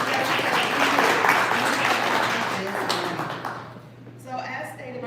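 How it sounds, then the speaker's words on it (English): A crowd applauds loudly with dense clapping that gradually fades away, followed by a voice beginning to speak. "Give yourself a round of applause."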